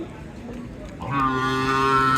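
Cattle moo loudly and close by at a busy Bangladeshi Eid cattle market, a long sustained low call rising after a second of background crowd murmur.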